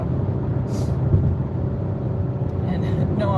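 A car driving on a road, heard as a steady low rumble of road and engine noise throughout, with brief higher hiss bursts and a voice talking over it.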